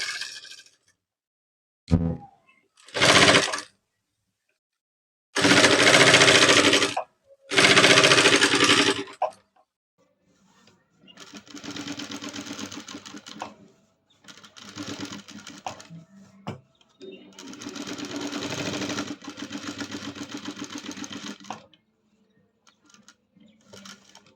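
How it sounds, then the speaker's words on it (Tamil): A sewing machine stitches a blouse piece in several bursts, a few loud close runs, then softer, longer stretches of stitching with brief stops between them. "இந்த சாக் பீஸ் மேலேயே ஒரு தையல் போட்டுக்கலாங்க"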